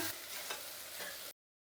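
Utensil scraping and stirring potato tempering with salt in a hot pan, with a steady sizzle underneath, then a brief silent gap before the stirring resumes.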